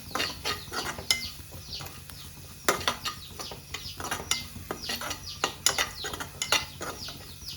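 Spinach stir-fry being stirred in a pan: irregular scraping and clacking of a spatula against the metal, close and crisp, in quick uneven strokes with no talking.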